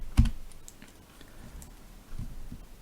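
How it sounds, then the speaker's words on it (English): Numbers are tapped into a calculator: one sharp, close key press, then a few softer clicks spread over about three seconds in a quiet room. "And I type that into my calculator"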